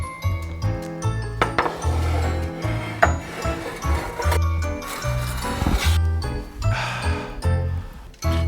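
A roasting pan holding a capercaillie on a bed of onion and butter slides into an oven, giving a run of clinks, scrapes and metallic knocks over several seconds, with some background music and no clear speech.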